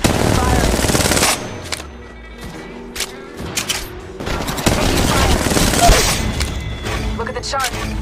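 Automatic gunfire rattles in Apex Legends Mobile, loud, sustained bursts broken by a brief lull, with thumps and mechanical clicks mixed in.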